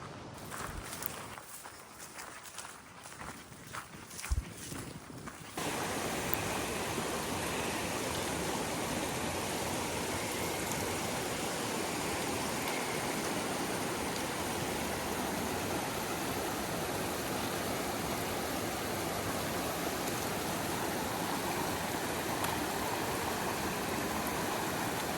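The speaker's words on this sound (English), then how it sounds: "Back down by the river again." A river flows along a hiking trail during a Continental Divide Trail shakedown hike, a steady, loud broadband rush that swells in after a few quieter seconds of footsteps and then continues unbroken.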